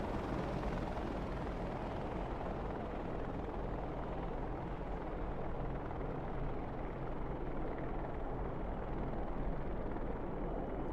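An Apache attack helicopter at an air show gives off a steady, broadband rotor and engine roar that stays loud and even for about eleven seconds, with no voices.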